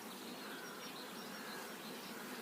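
Honey bees buzzing in a steady, dense drone around an apiary while most of the colony forages on rapeseed, a continuous close hum with no talk.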